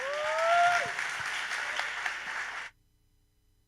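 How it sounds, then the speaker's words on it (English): Demo day audience applaucing a presenter, steady clapping from a room of people lasting a few seconds with a faint whistle or cheer near the start, then a sudden cut to near silence. "Big round of applause for Ignacio"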